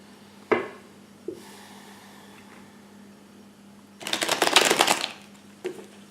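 Tarot cards being shuffled by hand: a few isolated soft taps and flicks, then a dense burst of rapid riffling for about a second, followed by a couple of quieter clicks, close and with no talking.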